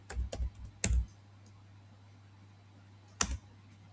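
A few isolated computer keyboard keystrokes while setting up Oracle Fusion enterprise structure, a short cluster of clicks at the start followed by quiet and one more tap near the end, faint and close with steady low hum beneath.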